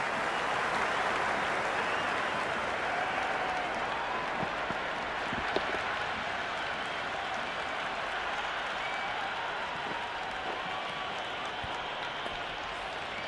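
Dense stadium crowd roaring and applauding at an India versus England T20 World Cup cricket semi-final, a steady, loud wash of cheering and clapping that holds for the whole stretch without dropping off.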